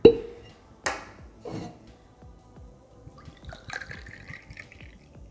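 Rye whiskey poured over ice into a mixing container for a Black Manhattan, heard as a few close splashing, dripping pours followed by soft liquid trickles and clinks, with no talk.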